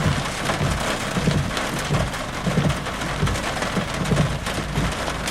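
Steady, dense rain pours during a Florida thunderstorm, with low rumbling thunder rolling beneath the hiss and occasional splattering drops, all continuous and fairly close with no voices.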